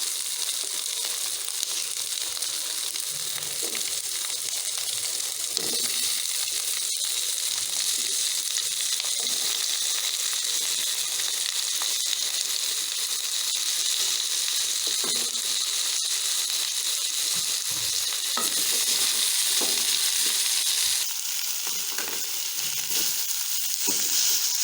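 Green chillies sauté in oil in a pan for vegetable kurma, giving a steady close hiss of frying with occasional soft scrapes and pops from stirring.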